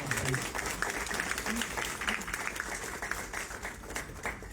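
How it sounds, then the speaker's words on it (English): A crowd at a community safety meeting gives a round of applause, a dense wash of clapping hands at moderate volume that holds steady, with some voices mixed in. "So a round of applause."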